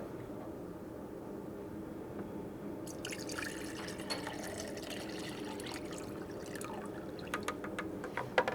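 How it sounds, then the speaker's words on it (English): Collected runoff water from a retention pond is poured into a measuring container, starting as a soft trickle and building into steady splashing drips close by. "Okay, so I'm going to pour it out."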